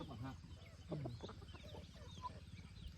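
Chickens cluck steadily around a Lao village set in the forest, a busy run of short calls close by, with other bird sounds and a faint voice mixed in.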